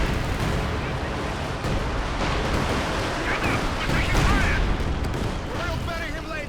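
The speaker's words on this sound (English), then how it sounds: "They're just using so much artillery to hold us back." Artillery pounds steadily in Company of Heroes 2, a dense wall of booming shell fire and explosions rumbling throughout, with someone talking over it.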